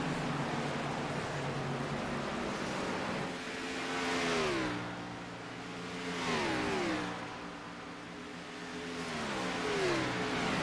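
Stock cars in a racing video game sweep past on an oval track, engine notes rising and falling in repeated waves as they pass, steady and moderately loud with no talk.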